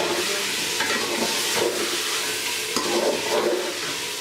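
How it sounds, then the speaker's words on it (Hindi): Whole spices frying in a pot of hot oil with salt for chicken vegetable biryani, giving a steady close sizzle with a few stirring scrapes and no talk. "इसको 1-2 मिनट के लिए भूनेंगे।"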